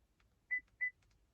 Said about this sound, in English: You heard that dual beep?